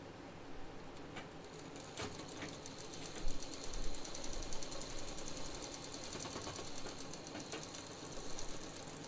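A sewing machine stitches a second seam beside the first on the fabric pocket of a handbag, a steady rapid mechanical whirr running continuously at moderate level with no talk.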